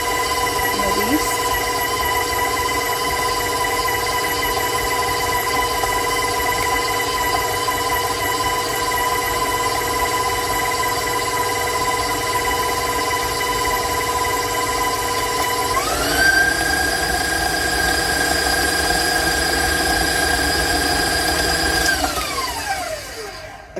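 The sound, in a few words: stand mixer beating chocolate chip cookie dough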